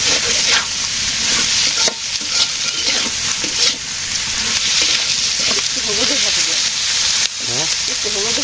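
Fish sizzles hard in a pan of hot oil in a village kitchen. The frying hiss is loud and constant, broken by brief stirring scrapes, with a faint voice now and then.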